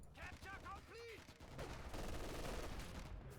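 Rifle volley from Panzergrenadier infantry in a Company of Heroes 2 1v1 match on a street, a sustained crackle of mixed gunfire and battle noise with a brief chirping effect early on, fairly loud throughout.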